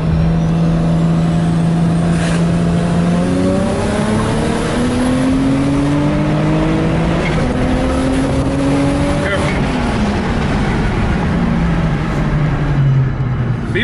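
A Nissan R32 Skyline engine under a full-throttle pull: a loud, close roar that climbs in pitch in several stepped runs, dropping back between shifts before rising again.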